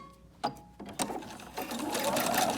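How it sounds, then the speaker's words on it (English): A sewing machine stitches a few stitches forward and then reverses, while sewing a DIY fabric dust mask: bursts of motor whir start and stop, then build into a steady, close, fairly loud run. "I'm going to come forward a few stitches, and then I'll go reverse a few stitches."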